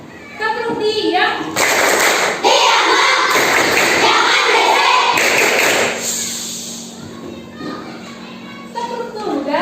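Children in an Islamic religious studies class perform the tepuk diam clapping chant: a soft voice opens, then a loud burst of group claps and chanted voices, fading into quieter murmuring with a few final claps.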